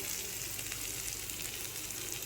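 Cumin seeds dropped into hot oil with turmeric for a Bengali-style oil koi fish curry, crackling and sizzling steadily throughout, a dense, even hiss with no voices.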